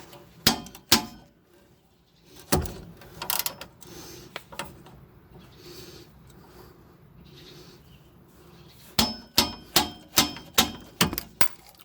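A 17 mm wrench loosening a bolt on the rear suspension of a 2002 Volkswagen Golf 4 cabriolet, sharp metallic clicks and clanks in scattered pairs, then a quick rhythmic run of ratcheting clicks near the end.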